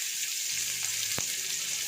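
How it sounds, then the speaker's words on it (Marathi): Chopped onion sizzles in a pan for a ridge gourd bhaji, a steady, bright frying hiss with a brief clink near the middle. "हा कांदा आता चांगला भाजून घेऊया।"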